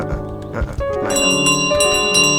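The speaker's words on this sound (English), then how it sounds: "My bell." A bell rings in Untitled Goose Game, bright ringing tones layered over the game's music and effects, loud and close.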